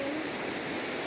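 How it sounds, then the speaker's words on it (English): River water flowing through Zion Narrows, a steady, broadband rushing wash heard alone at a moderate distance, continuous and even for about a second. "I just hear the water moving."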